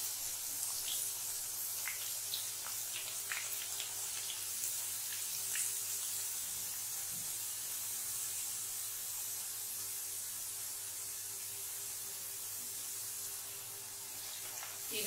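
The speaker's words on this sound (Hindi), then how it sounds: "एक साथ में हम थोड़ा थोड़ा वेफर्स डालते जाएंगे और चलाते हुए फ्राई करेंगे।" Thin potato wafers sizzle steadily in hot oil over a medium flame, making a continuous hiss with scattered crackles and pops throughout, close by and alone without any talk.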